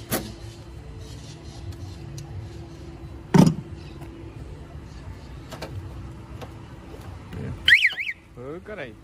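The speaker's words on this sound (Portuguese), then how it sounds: "Caralho, tem alarme o bagulho aí? Tá funcionando" An auction-bought car's alarm chirps loudly near the end after a sharp click, over quiet background noise with faint voices.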